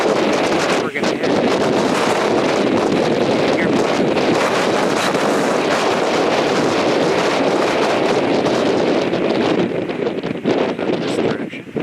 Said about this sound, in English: It's really blowing out here